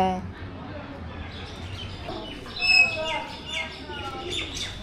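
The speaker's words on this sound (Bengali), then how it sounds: "সবচেয়ে বেশি ভালো লাগতেছে ময়নার ডাকটা। ময়নার ডাক।" Repeated common myna calls, chirping and warbling whistles, over a continuous noisy background with faint voices, at Mohera Zamindar Bari.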